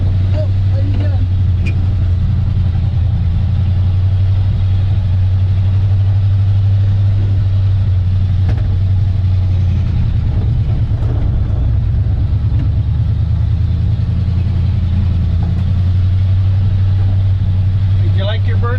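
A 1951 Mercury truck's engine idles and runs steadily with a low, constant drone throughout, and people talk over it.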